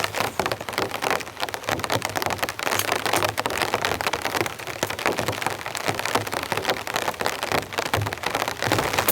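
Heavy, steady rain drums on a tent at a stormy winter campsite, a dense continuous patter of drops that stays loud and even from start to finish, with no voices.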